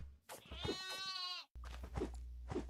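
Goats in the video game The Aether II give a loud, drawn-out quavering bleat, followed by shorter bleats after a brief cut, close and clear.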